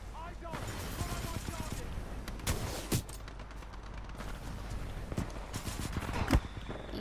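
Mastiff shotgun blasts in a first-person shooter game, fired at an enemy sentry: a few sharp, loud booming shots spaced unevenly through the stretch, over busy game noise and a voice talking.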